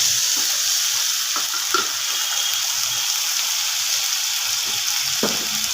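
A ground spice paste, with a spoon of turmeric, fries in a pan for a light Bengali fish curry, giving a constant bright hiss with occasional soft stirring knocks.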